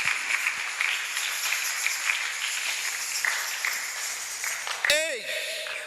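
A church congregation at a Sunday service applauds steadily as a dense patter of clapping, with a voice over it and a sharp burst of other sound near the end.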